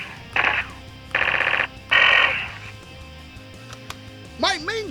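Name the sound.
Nerf blaster sound module effect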